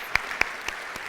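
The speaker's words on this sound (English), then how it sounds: "Give yourself a round of applause" Applause from an audience at a speaker series event, a soft bed of scattered clapping with a few distinct louder claps, faint and short, no talk over it.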